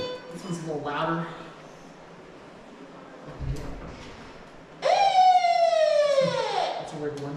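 A NOAA weather radio plays an alert siren tone, a loud sustained wail that bends downward, coming after a few seconds of indoor talk and faint earlier tones.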